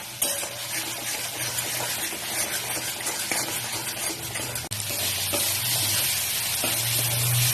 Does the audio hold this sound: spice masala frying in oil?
yes